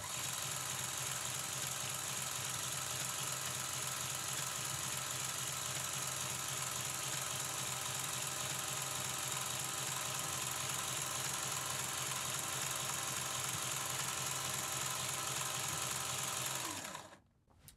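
A battery-powered motor drives a homemade drawing machine, giving a steady, loud mechanical whir with a constant hum that runs unbroken for most of the span, then cuts off abruptly near the end.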